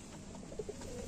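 Lalduma Madrasi pigeons cooing softly in short, low murmurs against a steady background hum, close by with no talking.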